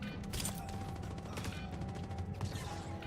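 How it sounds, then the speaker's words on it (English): Rapid gunfire rattles through a Star Citizen combat mission, dense overlapping shots and bursts at moderate volume, continuous throughout with faint background voices. "Something shooting me."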